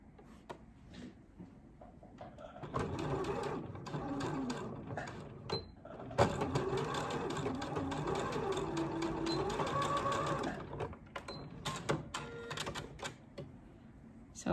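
A sewing machine runs a straight stitch through folded swimsuit fabric, a close, quiet, rapid whirring and ticking that holds steady for several seconds between shorter bursts and pauses.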